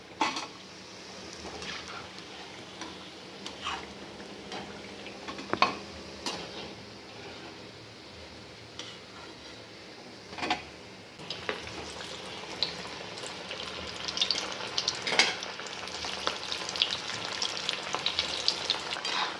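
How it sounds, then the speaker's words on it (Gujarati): Oil bubbles and sizzles steadily as millet-flour vadas deep fry, with occasional clinks of a utensil against the pan, growing louder toward the end. "આ રીતે આપણે બધા વડા તળી લઈશું"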